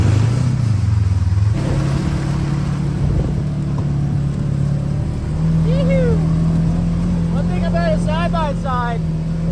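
A UTV or ATV engine drones steadily while driving over rough terrain, its pitch stepping up once early on, with faint squeaks and chirps toward the end.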